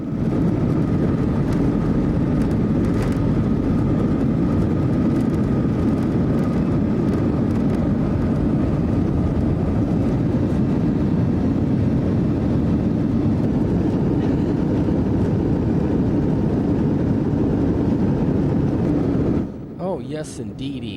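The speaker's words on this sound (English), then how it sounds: "Okay, we're getting ready for takeoff here." Cabin-side roar of an airliner's takeoff run, a loud, steady broadband rumble that holds for about twenty seconds before dropping away abruptly near the end, with occasional faint speech in the cabin.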